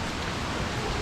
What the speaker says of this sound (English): At the moment it's not too bad, just heavy rain and a little bit of wind,